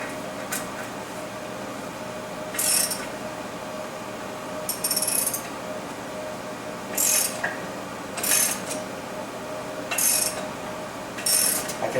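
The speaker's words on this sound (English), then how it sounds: "I can see the shaft being pulled in, so that's a good sign." A shaft being drawn into the lower bearing of a South Bend lathe gives a series of separate ratcheting, clicking mechanical bursts at regular intervals over a steady background hum, with no talk.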